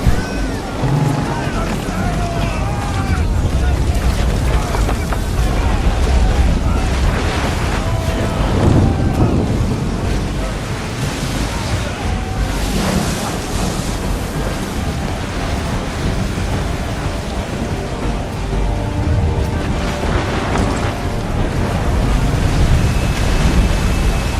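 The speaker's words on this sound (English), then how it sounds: "Wow, what thunder! It's getting worse." Thunder rumbles during a storm in the video game Assassin's Creed 3, with continuous loud rolling roars blended into heavy wind and churning water noise for the whole stretch.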